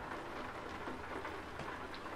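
Steady rain in Euro Truck Simulator 2, a constant even hiss of drops falling on the truck and road, heard alone with no talk over it.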